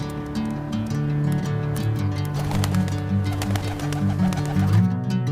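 A pigeon coos softly in a low, rolling rhythm beneath a busy, bright musical backing, with the bird sounds fairly faint and partly masked.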